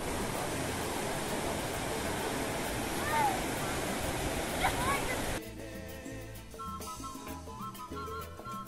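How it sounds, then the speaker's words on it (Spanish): The Juanambú River in Nariño, Colombia rushes as a loud, steady roar of flowing water for about five seconds, then music takes over. "estas son las aguas del río Juanambú"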